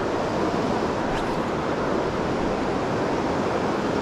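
Water surges and washes in the shallows close by in a constant rushing roar, with a touch of wind buffeting the microphone.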